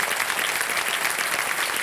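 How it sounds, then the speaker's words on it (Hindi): A television quiz-show studio audience claps to welcome a female contestant, a thick, steady burst of applause that holds at full level from start to finish. "एक बार फिर इनका बहुत बहुत स्वागत और तालियों के साथ"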